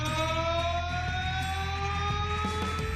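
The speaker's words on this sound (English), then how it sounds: "every victory is met with a siren." A loud, steady siren sounds in Dawsonville, Georgia to celebrate a NASCAR race victory, its sustained wailing tones sliding slightly in pitch over a low rumbling crowd and background din.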